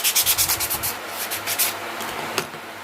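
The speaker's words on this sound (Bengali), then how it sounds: "ঢাকাটাও ঘষে নিই।" PVC pipe lid rubbed to roughen it for glue, close rapid scratchy strokes that start in a quick regular rhythm, then soften and slow, with one sharper scrape near the end.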